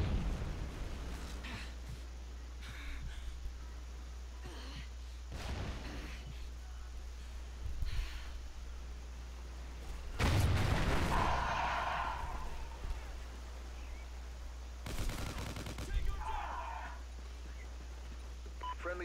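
Explosions in the video game Call of Duty Ghosts, a handful of sharp booming bursts spaced apart over a steady low hum, with a player talking between them.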